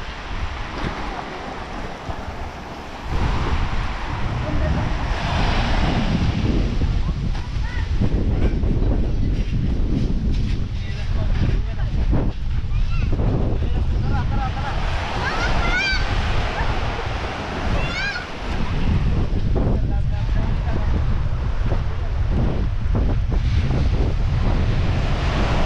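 Sea waves wash onto the shore at Dingalan, Aurora, with steady rolling surf and heavy wind buffeting the microphone, loud and continuous after a quieter opening; no one speaks.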